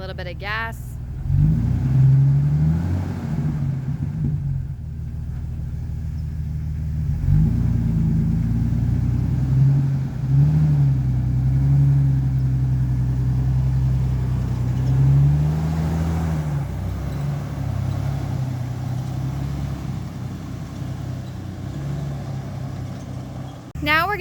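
Deep rumbling exhaust of a Jeep Wrangler TJ fitted with an aftermarket cheap muffler, idling close by and swelling with several short throttle blips before easing back down.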